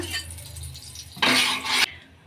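A soya keema paratha is laid onto an oiled tava griddle on the stove, a short clatter of the pan followed by a loud burst of hissing sizzle that cuts off after under a second.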